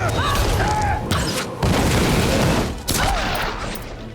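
Gunfire and explosions from the Tomb Raider video game, dense loud booming bursts of shots over a continuous game soundscape, with a voice briefly heard amid the action.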